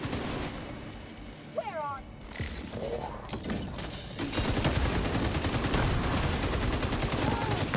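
Video game combat with grenade blasts and sustained rapid gunfire, building into a loud continuous fusillade under speech.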